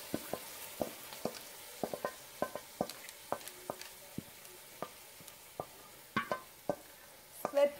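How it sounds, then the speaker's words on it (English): A spoon knocking and scraping in a pot of split pea soup with turmeric, curry powder, cayenne and black pepper, giving sparse, irregular close taps over a faint sizzle, busier near the end. "Give it a good stir."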